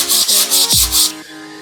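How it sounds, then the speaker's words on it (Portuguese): A sandpaper block rubs back and forth over a wooden boomerang in about five quick, close, loud strokes, followed by a short moment of quieter scraping. "você pode usar um taco com a lixa para deixar ele bem acabado"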